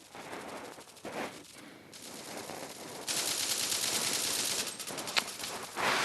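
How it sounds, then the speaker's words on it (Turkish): Bursts of rapid gunfire and single shots ring out continuously, loud and dense, with noisy synthetic game-like effects throughout. "Şuradan silah sesi geliyor arkadaşlar."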